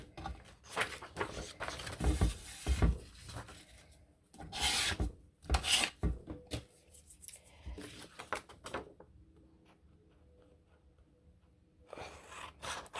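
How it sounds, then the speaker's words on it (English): A tool is rubbed firmly back and forth along the crease of a folded junk mail envelope, giving dry, papery scraping strokes in bursts with short pauses, close and with no voices. "Give it a good burnish."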